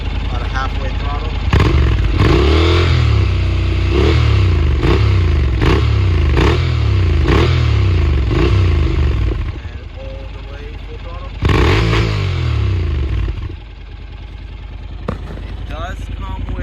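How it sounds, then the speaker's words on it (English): A 2012 Honda NC700X with a Delkevic slip-on exhaust revs at about half throttle, loud and close, in a steady run of rhythmic surges and drops. A brief lull comes before the revving resumes. "This is idling. It's not much louder than the factory. Alright, gonna give it about a halfway throttle."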